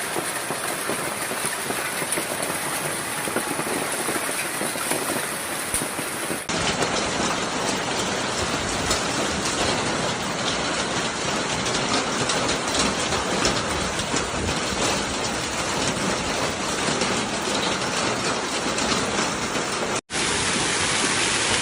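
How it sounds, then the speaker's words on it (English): Dense, loud, steady patter of rain and hail striking rooftops, vehicles and trees during a hailstorm in Changsha, Hunan, China, continuous throughout with no voices. "The sound of the hail hitting surfaces was distinct and loud, echoing through the streets and startling residents."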